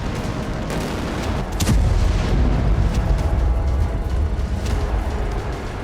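Tactical bomb blast in war footage: a sudden deep boom swells around the two-second mark into a sustained, loud low rumble with crackling bursts, like artillery or gunfire, continuing without letup.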